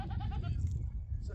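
A sheep in a mountain setting gives a short, near bleat with a wavering rhythm that fades out over about a second, heard alone without talk.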